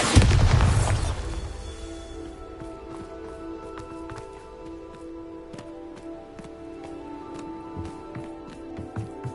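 The Bombarda explosion spell in a Hogwarts video game, a loud booming blast at the start that fades into a low rumble, followed by scattered small clicks and ticks of game sounds.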